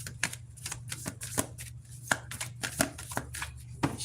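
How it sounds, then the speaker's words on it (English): Tarot cards from a custom deck being shuffled by hand, a rapid series of crisp riffling slaps and flicks repeating steadily up close over a low background hum, with no talking. "Let's shuffle this up a little bit better."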